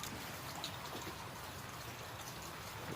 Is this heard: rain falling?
yes